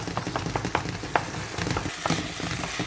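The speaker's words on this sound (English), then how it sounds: "Scramble this egg" An egg scrambles in a hot frying pan for Indonesian nasi goreng, with a steady close sizzle and crackle broken by light taps and scrapes of stirring.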